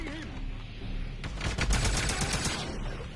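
Rapid bursts of gunfire from the Wolfenstein (2009) first-person shooter video game, a dense fusillade that starts a little over a second in and keeps rattling loudly to the end.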